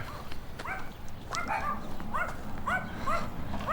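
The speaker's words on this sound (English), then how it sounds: "Dogs are barking." A chihuahua and another small dog yap repeatedly at a moderate distance, short sharp barks in an uneven series over steady outdoor background noise, in a Texas border town in the lower Rio Grande Valley.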